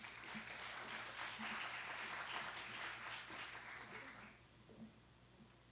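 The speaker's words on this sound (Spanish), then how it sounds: "La recibimos con este aplauso" A seated audience at a pediatric disease prevention talk in a hospital setting applauds a speaker, with steady, moderately distant clapping for about four seconds before it dies away into room hum.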